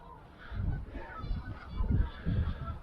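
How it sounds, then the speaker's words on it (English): A flock of geese on a small lake honks repeatedly in irregular bursts, fairly faint and off in the distance. "there is a bunch of geese behind me"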